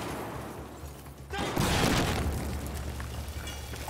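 A grenade blast in Battlefield 4 lands about midway, a sudden loud boom whose rumbling debris tail hangs for a couple of seconds before slowly fading.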